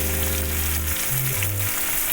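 Chopped onion frying in a pan for a pumpkin and chicken dish, a steady close sizzle filling the whole stretch over low tonal music, with no talking.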